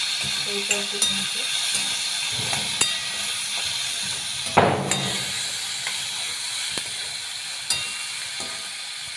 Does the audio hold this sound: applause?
no